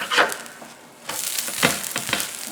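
A flax seed tortilla is flipped onto a greased pan over medium heat and gives a brief soft sizzle, then a quiet crackle that continues close by.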